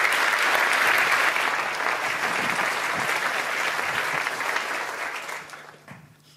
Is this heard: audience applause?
yes